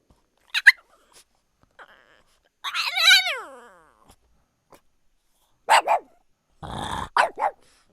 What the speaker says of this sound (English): Let's take a listen to the original barks.